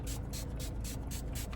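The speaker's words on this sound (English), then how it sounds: "I'm gonna spray a little bit of the hypochlorous acid" Short repeated hissing puffs of a fine mist sprayer of hypochlorous acid facial spray, about five quick spritzes, soft and close, over a low background rumble.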